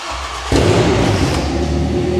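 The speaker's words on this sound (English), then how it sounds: "It is ridiculously loud, and this car is in dire need of an exhaust" A Ford Fusion ST with a 200bhp build and no exhaust fitted, its engine bursting into a loud, coarse, droning rumble that holds steady and close.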